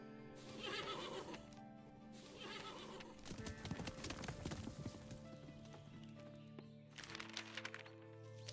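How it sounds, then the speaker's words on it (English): Horse hooves clopping and a horse neighing in the western video game Above Snakes, with rhythmic hoof beats amid music and game sounds. "I'm going to take the horse back."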